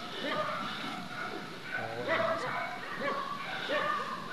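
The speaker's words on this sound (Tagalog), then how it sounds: "Bayaan lang natin yung mga aso na yun." Dogs barking and yipping at a moderate distance, a few scattered barks and a whimper amid background chatter.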